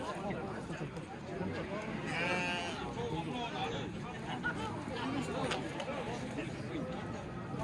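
Sheep bleat repeatedly amid a crowded livestock bazaar in the Ala-Buka district, a prominent bleat standing out over steady chatter and many voices talking nearby.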